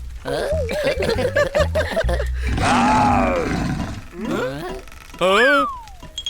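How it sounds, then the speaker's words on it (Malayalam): A cartoon lion gives a long, rough roar lasting a couple of seconds. Shorter growling and animated vocal sounds come before and after it, all fairly loud. "അയ്യോ, അത് സിംഹത്തിന്റെ ഒച്ചയാണ്."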